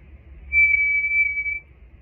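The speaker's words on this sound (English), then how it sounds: "You're going to whistle your lowest note" A person whistles one sustained high note, steady and clear, holding for about a second and a half over faint low background rumble.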